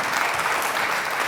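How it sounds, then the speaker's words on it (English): Audience applause for the Lichfield Little Legends as they collect their prize at the Lichfield Live Community Awards 2021, a dense, steady wash of many hands clapping close by for the whole stretch, with no voices over it. "Let's have a round of applause for them."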